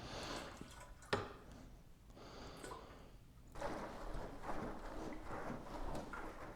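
Seafoam fuel additive is poured into the fuel tank of a KLR 650 motorcycle, with a soft, faint trickle and splash of liquid, a small knock partway through, and then a steadier low pour.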